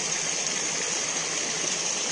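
Sewage water from a septic well pours steadily into a rubbish-strewn stream in Bursa, making a continuous close rushing and gushing wash with no pauses.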